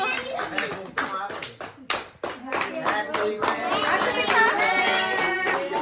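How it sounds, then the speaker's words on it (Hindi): A small group of people clapping at a home wedding anniversary celebration, brisk irregular claps close by, mixed with voices and music throughout. "चलो ताली बजाओ।"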